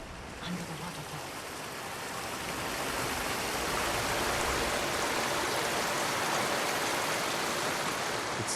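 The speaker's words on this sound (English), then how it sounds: "Under the waterfall." A waterfall in the video game Ghost of Tsushima pours as a steady, dense rush of falling water that swells slightly and then holds loud and constant, with no speech over it.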